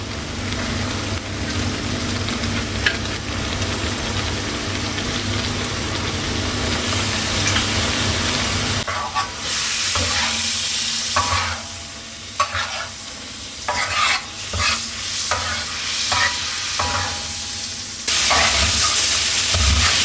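Chicken fries on a tawa over high heat with a loud continuous sizzle, joined by busy scraping and stirring strokes in the second half, close by and with no voices.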